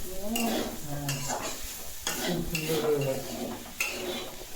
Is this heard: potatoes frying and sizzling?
yes